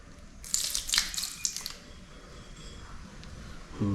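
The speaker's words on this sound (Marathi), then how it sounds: "आपल्या लादीवरच सुद्धा मी समजा पाणी ओतलं तर कुठे होतो पाणी" Water is poured onto a terrace tile floor, a brief burst of splashing and trickling that fades into soft dripping and a quiet background.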